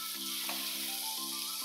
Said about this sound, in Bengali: এখন আমি মশলাটা ঢেলে দেবো